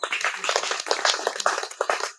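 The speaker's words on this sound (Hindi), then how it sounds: "तो इनके लिए तालियां" Audience clapping at a diet-program gathering, a dense burst of many hands beating together without pause, loud and close, with faint voices mixed in.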